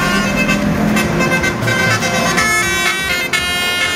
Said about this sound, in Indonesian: Petugas menegur pengemudi bus antar kota antar provinsi yang kedapatan membunyikan klakson telolet.